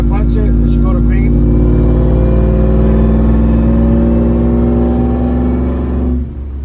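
A 1000-horsepower Ford F-150 on stock-type setup roars at full throttle, a loud, steady engine drone with rising harmonics held for about six seconds before easing off at the end.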